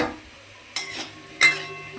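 Boiled potatoes drop into a pan of cooked-down tomato curry in oil, giving two soft wet thuds with a brief sizzle and a light clink of the pan, close by with no talking.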